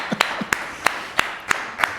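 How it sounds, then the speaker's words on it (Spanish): Six sparse, separate claps at a book presentation, spaced irregularly over two seconds, fairly faint against a quiet room. "Un aplauso para ella, por favor."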